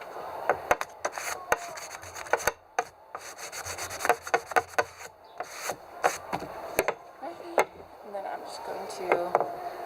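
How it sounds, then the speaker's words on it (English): Sandpaper is rubbed over drilled holes in a piece of wood, giving quiet, repeated scratchy strokes in an uneven rhythm, with a voice talking at times. "I'm just going to sand it just to make sure that all the holes are smooth here."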